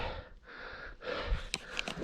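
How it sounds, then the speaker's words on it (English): A sweaty hiker on a woodland trail breathes hard after exertion, with loud close gasps and a snort-like exhale in uneven bursts. "Breathing kind of hard too, because I did a 70-kilometer ride yesterday"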